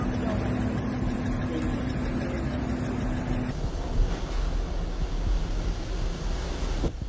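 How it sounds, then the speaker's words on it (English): A giant ship is battered by wind and waves at sea, with a constant roaring wash of surf and gusting wind noise, loud and unbroken, with a heavy thump of water near the end. "Look at the giant ship struggling in the wind and waves, each wave crashing loudly"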